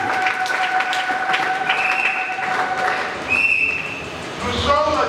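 Congregation applauding during a Sunday charismatic worship service at Sacré-Cœur church, a steady wash of clapping with voices and sustained musical tones mixed in throughout.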